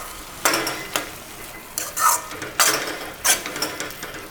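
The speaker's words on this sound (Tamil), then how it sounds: "நீங்கள் அப்பப்போ இடையில திறந்து இப்படி கிளறி விடணும்" A spoon stirs raw mango pickle cooking in a pan, with about six close scraping strokes in an uneven rhythm over a faint background.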